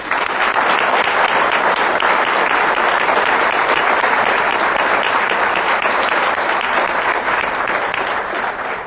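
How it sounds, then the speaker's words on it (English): Loud, sustained audience applause for the mayor at a 2009 State of the City address, a dense steady wash of many hands clapping that holds evenly for about nine seconds with no voices above it. "let's give her another round of applause."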